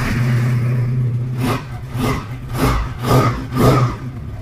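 A Regal Raptor motorcycle engine idles with a low rumble, then is blipped through several rising revs in a regular rhythm, close and loud with no talking.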